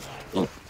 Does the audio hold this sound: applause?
no